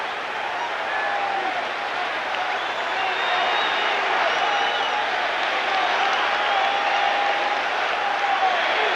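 Baseball crowd at Fenway Park during the 1978 Red Sox–Yankees one-game playoff, a steady, dense stadium roar with a chant rising out of it, carrying on unbroken for the whole stretch.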